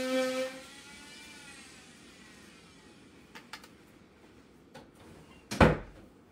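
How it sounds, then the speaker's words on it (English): A door swings shut indoors with a single sharp thud near the end, after a few faint knocks and bumps over a quiet room background. "Let me shut the door because that's going to be loud."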